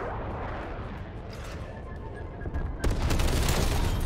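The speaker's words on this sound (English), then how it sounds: "Enemy napalm strike incoming." Napalm strike explosions in a competitive multiplayer video game rumble as dense, continuous booming that swells and turns heavier and louder toward the end.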